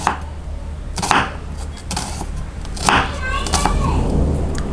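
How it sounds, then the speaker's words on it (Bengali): A knife cuts vegetables such as onion, garlic or potato on a cutting board, making a few crisp chopping strikes over a light background hum. "অনায়াসে এখন আমি সবজি, পেঁয়াজ, রসুন, আলু যেটাই বলেন সেটা ভালোভাবে কাটতে পারবো।"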